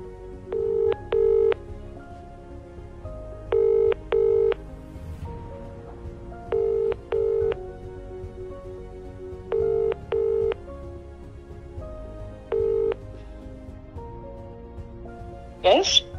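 A telephone call is placed: a series of short, evenly spaced ringback tones repeat in pairs, clear and close, with a brief click or rustle at the end.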